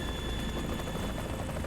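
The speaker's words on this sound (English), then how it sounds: "it's not very subtle when these helicopters come in" Helicopters coming in during a storm in Metal Gear Solid 2, a steady dense rotor roar mixed with wind and rain noise, loud and continuous with no talking.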